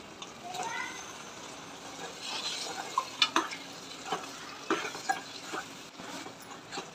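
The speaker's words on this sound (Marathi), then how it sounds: "अर्धा चम्मच गरम मसाला छान प्रकारे मिक्स करून त्यात टोमॅटो टाकून घेऊया आपण" Tomatoes and garam masala, with coriander and cumin powder, get stirred in a pan, giving soft scraping and a few sharp spoon clinks over a low, steady kitchen background.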